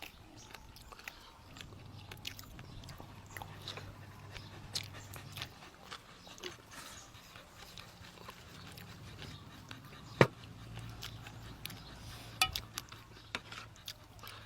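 Grilled chicken and papaya salad chewed with crunchy, wet bites and scattered clicks of utensils on dishes, steady and close over a quiet low hum.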